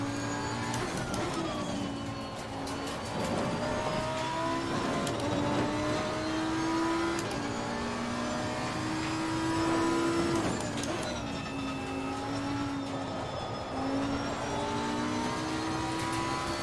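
A GT3 Lamborghini Huracan race car laps a track in Assetto Corsa Competizione. Its engine note rises and falls through gear changes, with tire and curb rumble beneath a sustained mid-level roar.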